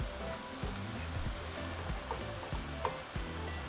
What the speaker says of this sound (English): And now we're just going to brown our meat.